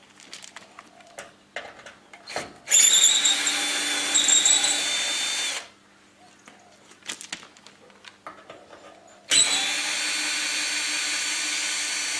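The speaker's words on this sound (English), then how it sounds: "On this particular pallet we need a T25 Torx bit driver just to remove the screws around the bottom holding the frame to the pallet." A power driver with a T25 Torx bit backs screws out of the frame on an IBC pallet in two loud, sustained whirring runs. Quieter clicks and handling noises fill the gaps between them.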